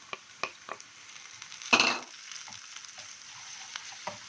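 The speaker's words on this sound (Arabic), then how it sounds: "واخده تشويحه كده مع البصله. انا مش عايزاها تصفر، طلع ريحتها بس." Garlic and onion sautéing in a frying pan while shrimp-stuffed calamari is being prepared, giving a soft steady sizzle with a few light stirring clicks and one brief louder burst of frying partway through.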